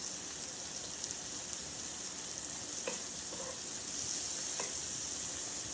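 Mushrooms fry in a pan over medium-high heat, a steady close sizzle and crackle running throughout with a few faint stirring clicks and no talking.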